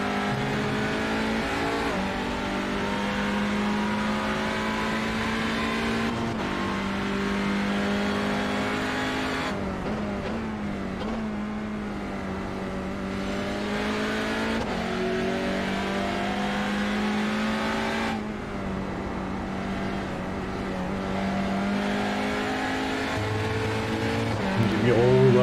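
Saloon race cars in a Wednesday night tin-top race lap a circuit, their engines droning and revving continuously with shifting pitch as they pass, while a commentator talks over them.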